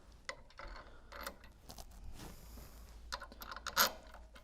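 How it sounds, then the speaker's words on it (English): Metal bolts being fitted into a stack assembly during a seal repair, heard as a scatter of light clicks, taps and small metallic clinks at close range over a quiet background, with one sharper rattling clink near the end. "Just going to put the bolts in first."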